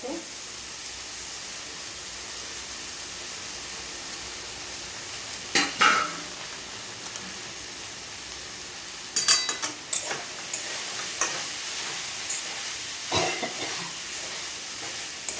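Washed flattened rice (chira) tipped into a hot pan and stirred, a steady low frying hiss with a few clustered scraping knocks of a spatula, close and without speech.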